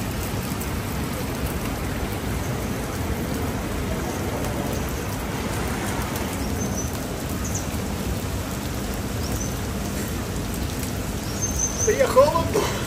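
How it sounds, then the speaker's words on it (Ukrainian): Steady rain falls outdoors as a continuous, even hiss that stays loud throughout, with a few brief rustles and knocks near the end. "Падає дощ."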